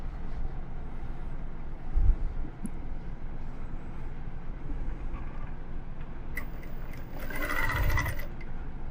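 A sewing machine runs a brief stitching burst of under two seconds along the seam of a fabric table runner, fairly close, after a long stretch of quiet room hum.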